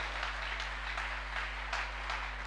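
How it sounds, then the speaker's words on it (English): Church congregation clapping, a fairly faint, steady patter of many hands over a low electrical hum, continuing evenly for a couple of seconds. "give Jesus a clap of him"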